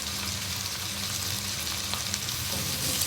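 Tomatoes frying in a pan for a chicken semiya dum biryani, a steady close sizzle and crackle running evenly throughout with no talking.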